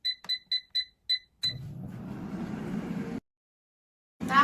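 An air fryer gives six short, bright beeps in quick succession as temperature and timer are set, then its fan whooshes on for a couple of seconds before falling silent, and another sound rises at the end.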